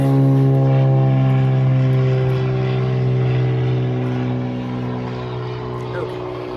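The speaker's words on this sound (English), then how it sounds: "there's a little airplane" A small propeller airplane drones overhead with a loud, steady engine hum that slowly fades as it passes, heard alone without talk.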